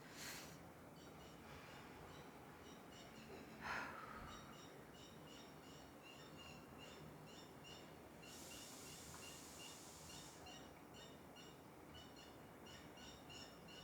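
A bird calls repeatedly outdoors in a steady series of short chirping notes, moderately far and faint over a constant background hiss, with a brief louder sound near the middle.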